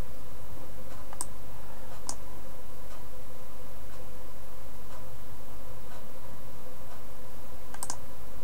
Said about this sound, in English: Let's click OK.